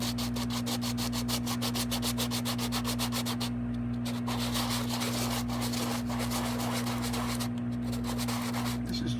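Medium grain sandpaper rubbed back and forth over a hardened rubber tire from a Continental TP410 reel-to-reel deck, a rapid rhythmic scratchy rasp with brief pauses over a steady hum.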